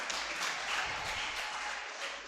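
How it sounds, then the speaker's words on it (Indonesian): Continuous applause from a congregation at a Sunday church service, steady and fairly loud throughout with no pauses. "terima kasih buat tepuk tangan untuk teman kita"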